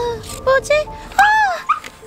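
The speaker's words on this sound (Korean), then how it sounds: "강아지다! 왜 박스에 들어가 있는 거지?" A puppy inside a cardboard box gives thin, high whimpers and short whining cries, close and clear, rising and bending in pitch, with a few soft yips between them.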